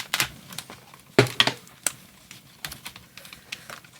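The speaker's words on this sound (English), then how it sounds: "Let me get some scissors here, crack into this packaging." Scissors snip and crack into plastic packaging holding tinted charcoal pencils, giving a few sharp irregular clicks and crinkles, close and fairly quiet, with no talking.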